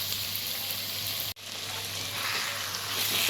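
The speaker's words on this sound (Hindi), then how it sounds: "इसको हम हल्के हाथों से मिक्स कर लेंगे चिकन को मसाला के साथ में।" Chicken is gently mixed with masala in a hot pan, making a soft, steady sizzle close by. A brief cut breaks it partway through, then the sizzle continues and swells slightly toward the end.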